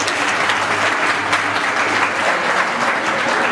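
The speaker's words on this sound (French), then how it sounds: "Je vous demande de l'applaudir." A crowd applauds steadily at a national youth women's forum in Sikasso, Mali, a dense even clatter of many hands clapping throughout, loud and sustained.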